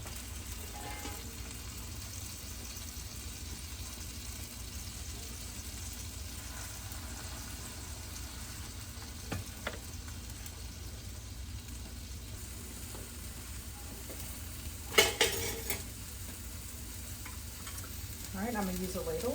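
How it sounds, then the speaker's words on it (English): Tortillas crisping in a hot pan for birria tacos give a steady, even sizzle throughout, with a few brief clatters near the end and no talking. "these tortillas will cook until they get slightly crispy"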